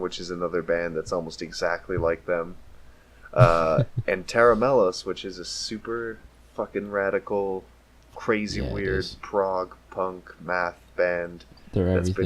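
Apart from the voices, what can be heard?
None of the usual background noises is heard.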